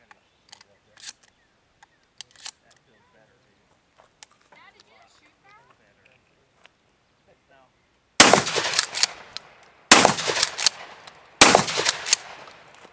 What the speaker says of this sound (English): So I'm going to shoot this now. I've got the same buckshot that I had in the KSG